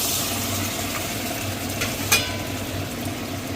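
Chili chicken sizzles steadily in a pan after a little water is added, a dense hissing fry with faint stirring and one brief clink of a utensil against the pan.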